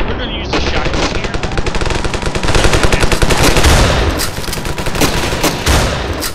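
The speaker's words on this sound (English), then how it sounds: "We're gonna use the shotgun here." Rapid, loud bursts of gunfire crack repeatedly in the video game Ravenfield, a dense battlefield barrage with shotgun blasts among the shots and no voices.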